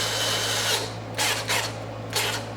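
Power tool tightening bolts on a custom engine cover, with several short whirring bursts over a steady low hum, close and moderately loud, no talking.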